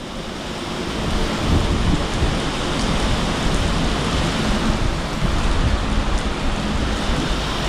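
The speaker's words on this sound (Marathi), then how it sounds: "इतक्या पावसात आता लय पाऊस आहे" Heavy, steady rain pours down continuously in a Gujarat forest, with low rumbling thunder rolling underneath throughout.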